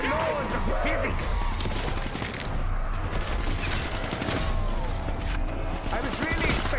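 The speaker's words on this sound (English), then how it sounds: "I was really expecting gravity to play more of a part in that explosion." Explosion in the Black Ops 3 Zombies map Revelations, buried in dense, continuous game noise with rapid crackling gunfire-like bursts and rumbling low end throughout, loud and busy with no clear pause.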